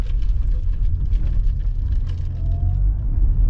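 Fast traffic on a highway with a 75 mph limit, a steady loud roar of cars rushing past close by, continuous road rumble with no pauses.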